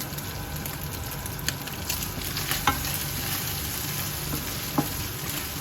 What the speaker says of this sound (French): maintenant notre eau est en train de bouillir. Donc, on prend nos spaghettis et on va les mettre en cuisson.